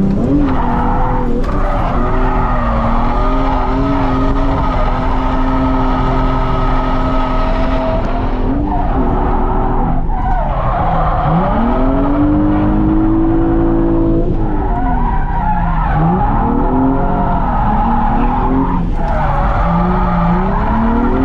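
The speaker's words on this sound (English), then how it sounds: "I'm gonna take the blue 350Z out for a couple of laps just to feel it out." A blue Nissan 350Z drifting on a police academy course, its engine droning and revving loudly while tires skid and squeal in long sustained slides, with the pitch rising and falling through each turn.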